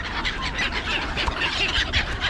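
Gulls calling at a feeding spot, many birds squawking and crying at once in a dense, continuous, fairly loud chorus of overlapping calls, with no talking.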